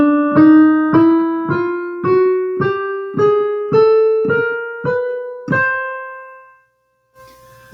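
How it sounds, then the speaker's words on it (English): Piano notes climb a chromatic scale upward from middle C, about a dozen evenly spaced struck tones, each ringing and decaying before the next, with the final note sustaining and fading into near silence. "I was just playing from middle C up to the next C on the piano"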